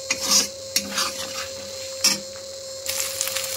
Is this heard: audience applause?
no